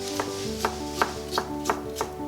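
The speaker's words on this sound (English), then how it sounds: "I like chopping my garlic in these recipes." A knife chops garlic on a cutting board in about six evenly spaced sharp taps, close and clear over a faint steady hum.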